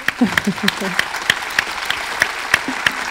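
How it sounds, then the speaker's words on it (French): Applause from a seated audience in a lecture hall after a talk on cooperative and open-source economics, with sharp, spaced individual claps standing out over a softer bed of clapping, while a voice speaks briefly underneath. "Vous pouvez l'applaudir."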